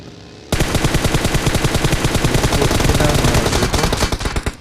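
Rapid automatic gunfire in a squad-based battle royale game rattles out in a dense, continuous burst of close, loud shots lasting several seconds.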